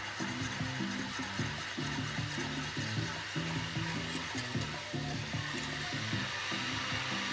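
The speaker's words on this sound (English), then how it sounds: "Butter sizzling ASMR" Butter sizzles in a pan while a butterscotch cinnamon pie is being made, giving a soft, steady crackling hiss at low volume over a faint, pulsing low hum.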